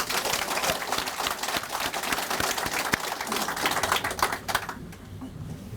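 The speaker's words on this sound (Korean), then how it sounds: "여기 열렬히 지금 박수 치시는 분들이 영주 봉화 영양에서 오신 분들입니다." A crowd at an election campaign office opening claps enthusiastically in a thick, rapid patter that stays loud for several seconds, then thins out and fades near the end.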